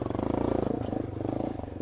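A Yamaha XT250 motorcycle engine in second gear on tight single-track trail, a close, steady pulsing thrum with rapid rhythmic firing and slight rises and dips in load.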